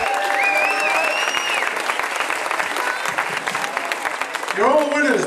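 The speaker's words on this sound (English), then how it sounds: "Give him a round of applause." Crowd applause at an outdoor whistling world record event, steady clapping with a few high whistles drifting over it early on and a voice breaking in near the end.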